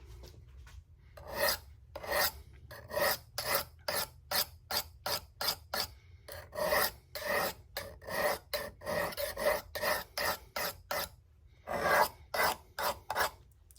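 Knife blade rasping across a sharpening stone in regular back-and-forth strokes, about two dozen crisp scraping passes in a steady rhythm, close and clear with no talking.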